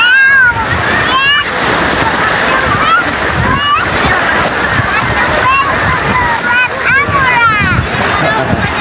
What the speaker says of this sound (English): The wave. The wave. That wave.